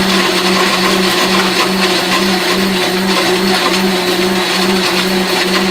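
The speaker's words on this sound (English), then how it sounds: "A very powerful blender, please, because you've got a lot of nuts." A powerful blender roars steadily at close range blending nuts, a loud continuous grinding whir that holds its pitch throughout.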